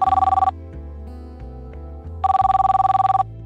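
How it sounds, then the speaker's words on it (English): A mobile phone in a video game rings loudly in two bursts of rapid electronic trilling, separated by a stretch of soft background music that continues underneath. "Just then, Rachel's phone starts ringing."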